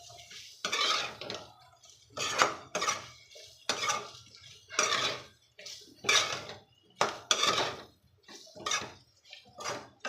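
Metal spoon scraping and clattering against a kadhai while okra (bhindi) is stirred, a series of short irregular scrapes and clinks close by, with quiet gaps between strokes and no talk.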